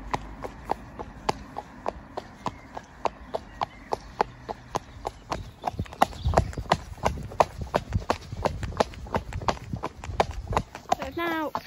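Steady clip-clop of Duncan's hooves on a hack, an even rhythm of sharp close strikes throughout, growing busier and a bit louder midway, with a brief snort near the end.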